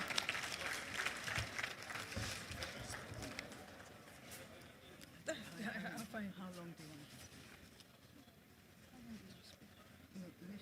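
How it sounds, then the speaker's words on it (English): Applause from a crowd at an economic society's annual conference session rises for a speaker, a fairly faint, busy patter of clapping fading out, with talk over parts of it. "Please, a round of applause for her."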